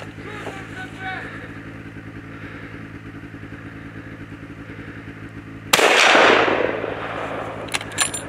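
A single loud, close rifle shot rings out during a spring brown bear hunt in Kamchatka, cutting through a steady engine-like hum and trailing off in a long echo, with a faint clatter after.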